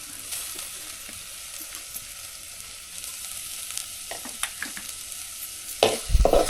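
Chopped onion frying in a pan on a wood-fired clay stove for a cashew curry, giving a steady close hiss of sizzling with intermittent stirring scrapes that grow louder and busier toward the end.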